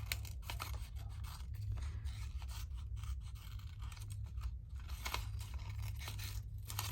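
Scissors snip and rasp through paper flower pieces at close range, a series of quick cutting and rubbing strokes over a low steady hum.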